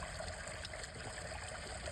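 A bamboo water fountain trickles in a steady, soft, continuous flow, low and even throughout with no voices.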